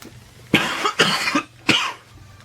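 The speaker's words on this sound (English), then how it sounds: "Now I can't stop coughing." Three sharp, close coughs from one person whose drink went down the wrong pipe, each a harsh burst about half a second apart, separated by brief quiet.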